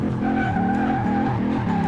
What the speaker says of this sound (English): every time this car gets up into shift range, it's just spinning tires and breaking free